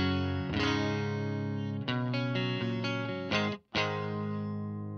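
A clean electric guitar plays through a Marshall Origin 20C amp, with sustained ringing chords followed by a run of quicker notes, a brief cut, then a final chord decaying, all heard without talk.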